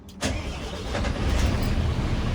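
A Mercedes Econic coach engine starts with a brief cranking burst, then settles into a steady, close idle that fills the rest of the moment.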